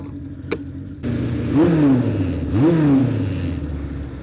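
A 1973 Honda motorcycle engine, built by Liquid Illusions, revs twice in an underpass, each blip rising and falling over a steady idle that echoes off the enclosed walls, close and loud with no talking.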